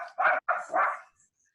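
A dog barks three times in quick succession, close and fairly loud, then falls silent.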